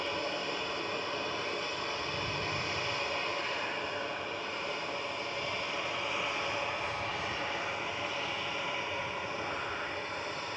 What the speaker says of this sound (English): That one, EasyJet touching down from Malaga.